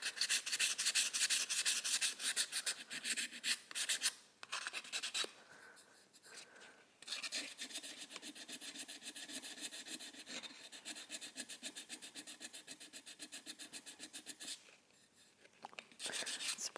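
Hand sanding with 400 grit sandpaper on a vintage piece being restored, a steady close scratchy rubbing in fast back-and-forth strokes with a few short pauses, no talking.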